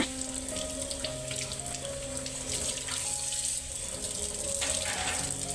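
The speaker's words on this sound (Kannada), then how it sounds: "ಹುಣಸೆಹಣ್ಣೆಲ್ಲ ಹಚ್ಚಿ ಸ್ಕ್ರಬ್ ಮಾಡಿ ಇಟ್ಟಿರುವಂಥ ಹಿತ್ತಾಳೆ ಪಾತ್ರೆಗಳನ್ನೆಲ್ಲ ತೊಳೆದಿಡ್ತಾ ಇದ್ದೀನಿ" Brass vessels, scrubbed with tamarind, being rinsed under a running tap while a home temple is cleaned. The water flows steadily and splashes, with occasional faint clinks of metal.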